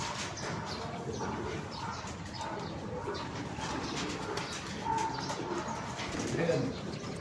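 Pigeons coo softly amid a noisy outdoor scene, with occasional wing flaps and people talking in the background.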